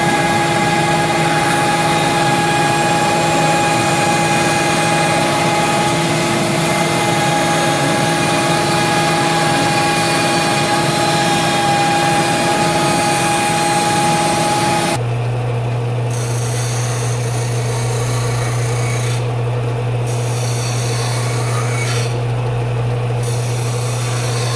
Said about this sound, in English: I'll just go and cut it out on the bandsaw.